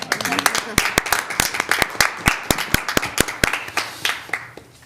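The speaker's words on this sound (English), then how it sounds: "I feel like just a little round of applause" Applause at a transit board of directors meeting: a small room's worth of hands clapping in a steady, fairly loud rhythm of sharp individual claps for about five seconds, with some faint voices underneath.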